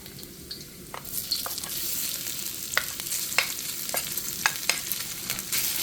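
Garlic sautéing in a hot pan while being stirred: a steady, close sizzle with scattered crisp spatters and scraping pops, alone without talk.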